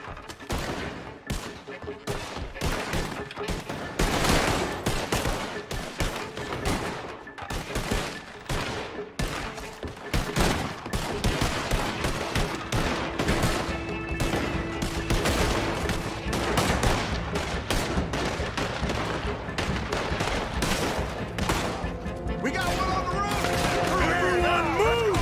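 Sustained gunfire in a bank-robbery shootout from the video game Red Dead Redemption 2, with rapid bursts and volleys of shots mixed with voices and shouting throughout.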